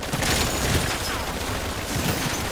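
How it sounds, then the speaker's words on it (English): Sentry turret scorestreak in a Call of Duty game fires a dense, continuous burst of rapid gunfire, loud and close, holding steady for the whole stretch with no pauses. "Establishing sentry turret"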